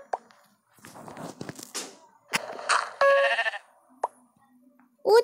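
Sheep in a video game bleating several times in short, separate calls, with soft clicks and footsteps between them.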